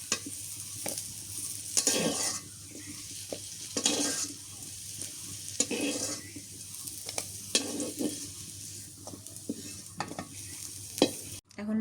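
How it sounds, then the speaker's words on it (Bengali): Fish fries in hot oil in a village kitchen, a steady sizzle broken by repeated scraping stirs of a spatula against the pan, close and fairly quiet. "এখন মাছ ভেজে নিই।"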